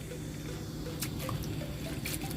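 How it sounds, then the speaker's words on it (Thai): Kuay jap yuan noodles being rinsed in water, a quiet, steady wash of running water broken by a couple of brief splashy drips. "เส้นก๋วยจับยวน เอามาล้างน้ำก่อน"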